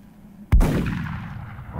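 A single loud gunshot blast from the tactical strategy game XCOM: Enemy Unknown, a sharp close crack followed by a rumbling tail that fades slowly over more than a second.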